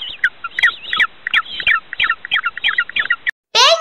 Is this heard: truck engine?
no